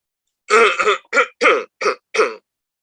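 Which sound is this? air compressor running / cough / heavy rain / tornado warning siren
cough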